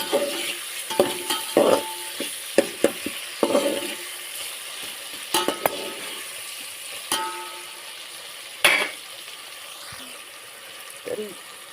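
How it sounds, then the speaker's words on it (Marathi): Tomatoes are sautéed in a pan for a cauliflower curry, with a steady soft sizzle broken by sharp spoon clinks and scraping stirs against the pan, close and clear. "टमाटर मी आता परतून घेते"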